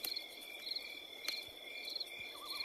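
Crickets chirp at night in a steady, high, trilling chorus that keeps going without a break, with a faint warbling call joining near the end.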